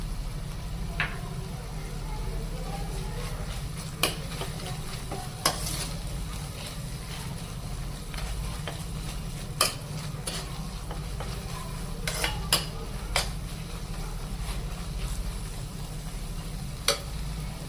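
Bottle gourd halwa with cardamom powder and fried dry nuts gets stirred and fried in a pan: a steady low sizzle with sharp, scattered spoon scrapes and clacks against the pan, close and moderately loud.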